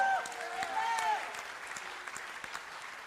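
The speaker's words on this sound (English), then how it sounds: "Go ahead and clap." A congregation claps during a Sunday service, brief scattered applause with a few distinct claps, a voice speaking briefly over the start.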